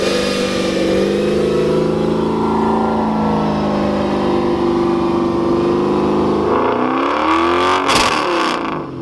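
A show car engine holds a loud, steady high rev around 4,500 rpm close by, then the pitch drops sharply as the throttle is released and it falls back toward idle.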